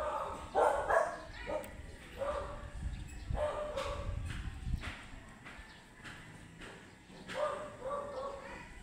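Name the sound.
dogs barking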